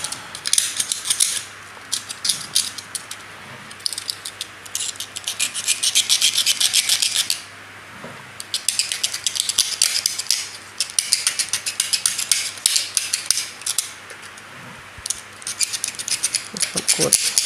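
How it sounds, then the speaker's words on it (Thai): A Siamese rough bush (khoi) bonsai branch has its bark scraped off by hand, giving repeated bursts of close, harsh rasping and scratching strokes separated by short pauses. "นี่ก็ขูดออกอีกรอบนึง"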